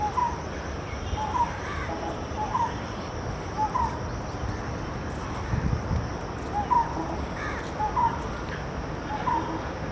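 Crows caw again and again at a moderate distance across a morning in Ramna Park after rain, their short calls spaced irregularly over a steady outdoor hum.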